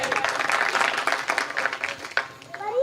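A crowd at a spiritual poetry gathering in Jwara village, Gadarwara, Narsinghpur, claps in a brief, dense burst of applause. Some voices and cheers mix in before it fades.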